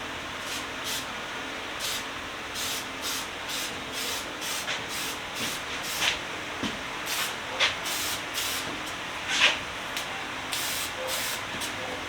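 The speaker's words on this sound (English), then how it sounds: "not getting good spray out of this tip" Spray can bursts laying Caterpillar yellow paint over primer, a series of short hissing sprays in an uneven rhythm, close by, with a few sharper sputters from a poor nozzle tip.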